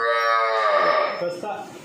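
Murrah buffalo in a dairy barn giving one loud, close, drawn-out low call that fades toward the end, with faint shed noise after.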